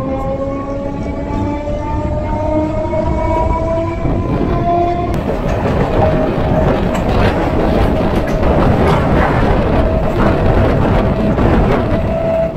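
A Sealdah–Hasnabad local train runs along the line with a loud, continuous rumble and rattle, close and steady, while a drawn-out horn tone fades out in the first few seconds.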